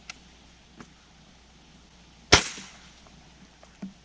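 A single sharp, loud sniper rifle shot cracks out during a sniper shooting contest and decays quickly, with a few faint small knocks before and after.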